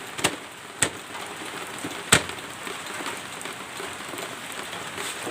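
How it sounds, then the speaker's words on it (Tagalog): Morning rain falling steadily on a surface, a constant soft patter broken by a few sharp nearby knocks and taps. "umagang umaga, ulan."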